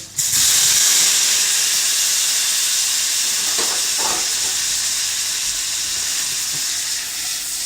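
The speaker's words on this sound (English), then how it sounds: "See, the butter's going brown now." Butter browning in a pan on high heat, giving a loud, steady sizzling hiss that runs close and unbroken from start to finish, with faint clatter partway through.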